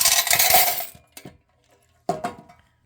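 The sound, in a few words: coins being taken out of a claw machine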